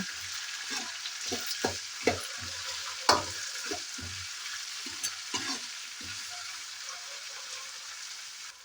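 Chopped tomatoes fry in a pan for lemon rice, giving a soft continuous sizzle with scattered crackles and light stirring scrapes, fairly quiet and close, with no talking.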